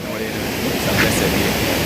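A river in Jamaica rushes loudly and steadily, a dense broadband roar of turbulent water with some wind buffeting on the microphone, heard up close and continuous.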